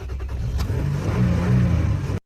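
A pickup truck engine that starts but dies after a couple of seconds revs up close and loud, builds briefly, then stumbles and cuts out abruptly into silence.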